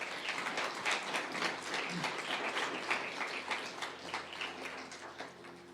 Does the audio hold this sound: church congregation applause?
yes